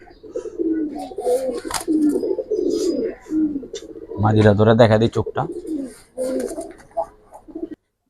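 Pigeons coo in a low, throaty burst midway through, with someone talking before and after.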